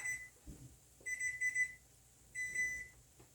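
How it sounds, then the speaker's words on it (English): A kitchen timer alarm goes off while Swedish meatballs cook, sounding three clear bursts of rapid high electronic beeps, close and fairly loud, with soft kitchen clatter underneath. "that's the timer right now."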